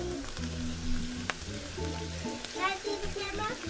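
Brussels sprouts sizzle in an oiled pan alongside bacon, a moderate frying crackle under a continuous low hum, with a few clinks and a brief rise of spattering near the end, while people talk quietly nearby.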